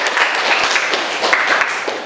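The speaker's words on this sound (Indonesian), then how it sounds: "Tepuk tangan untuk kelompok 3" Students in a classroom give a short round of applause, loud, close, dense clapping that holds steady for about two seconds, with no talk.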